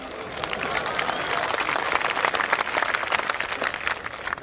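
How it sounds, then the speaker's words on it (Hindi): An audience at a speech applauds in a dense, sustained burst of many hands clapping, loud and continuous throughout with a crowd murmur underneath. "आप जो तालियां बजा रहे हैं"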